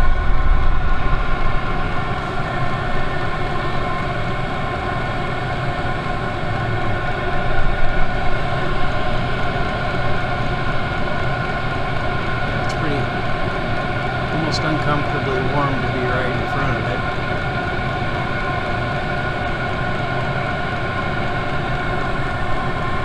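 A diesel heater runs on its highest setting with a steady, smooth mechanical hum and a constant droning tone throughout, fairly loud and unchanging, with faint talking underneath.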